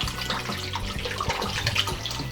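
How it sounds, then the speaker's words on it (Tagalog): About three cups of water pour into a cooking pot for odong noodle soup with sardines, a steady splashing gush, close and unbroken for the whole moment. "Mga 3 cups ng tubig ang ilalagay ko"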